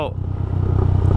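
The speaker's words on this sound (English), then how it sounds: "My exhaust is backfiring like crazy." A motorcycle exhaust backfiring while riding around a mountain town: a steady, loud low engine drone with irregular pops and crackles running through it, heard close up.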